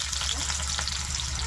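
Chopped onion, dried red chilli and five-spice tempering (panch phoron) frying in hot oil, a steady dense sizzle running continuously and close throughout, no talk.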